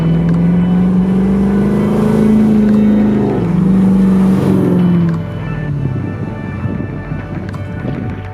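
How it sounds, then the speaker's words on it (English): A deep V8 engine drones loudly as the vehicle pulls away, pitch rising and shifting through gears, then fading to a quieter rumble with crunching gravel. "This D90 is powered by our LS3 engine with 6-speed automatic transmission"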